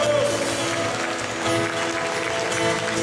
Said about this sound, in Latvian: Dosim viņam skaļus aplausus.